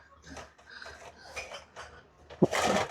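Frying pans handled while shopping, clanking and clinking in a few scattered metallic knocks with one sharper clang near the end, under people talking.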